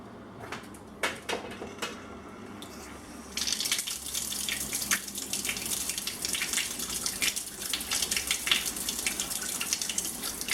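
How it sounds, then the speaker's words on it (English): Water rushes and splashes continuously from a submersible pump outlet draining a bucket, starting thin with a few clicks, then surging into a louder, steady gushing stream. "I'm going to plug it in and show you how much water comes out of this."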